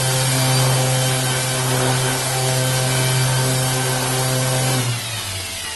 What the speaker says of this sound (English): with the orbital sander, I'm going to run it.